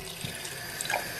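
Warm water runs steadily from a tap for rinsing makeup brushes, a short, even hiss and splash close by with a few small drips near the end.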